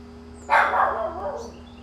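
A Chihuahua and black Lab mix gives a single sharp bark, close and clear over a low steady hum, then quiet.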